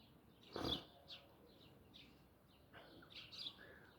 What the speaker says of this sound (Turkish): İnsan sesi yok sadece kuş.